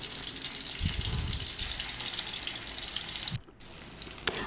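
Dry fish pieces frying in oil in a pot on a gas stove, a steady close sizzle with a brief dip partway through.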